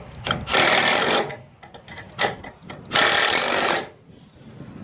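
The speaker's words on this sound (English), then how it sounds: "I'm just going to use an impact gun to make it quicker." Impact gun tightening nuts while assembling a Yak magnetic sweeper, heard as two loud sustained bursts of about a second each, separated by clicks and handling noise, with no talk.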